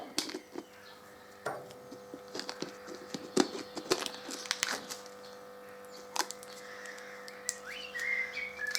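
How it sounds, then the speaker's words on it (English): Plastic wrapping is cut and peeled from a new Motor Factory oil filter in a workshop, giving scattered close crinkles, snips and tearing rustles over a faint background hum. "So I've got a new Motor Factory oil filter, and I'll just cut the plastic off."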